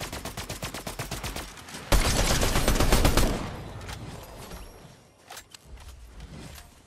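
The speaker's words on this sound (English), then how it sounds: "He's shooting at us." Rapid bursts of gunfire in Fortnite Chapter 5, a dense run of automatic shots building to a loud, sustained volley before tapering off into scattered faint shots and movement.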